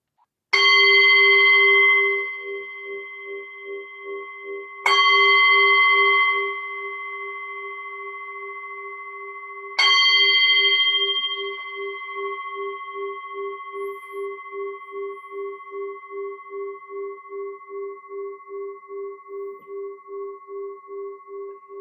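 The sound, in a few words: meditation bell ringing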